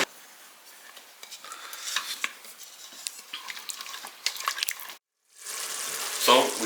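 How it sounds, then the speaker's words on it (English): A spoon stirs and scrapes the bottom of an oxtail stew pot during deglazing, with gentle sizzling and bubbling under the close, uneven scraping. There is a short silent gap before a louder sizzle returns. "Next, we have to deglaze the pot to get all the little brown fixings off the bottom."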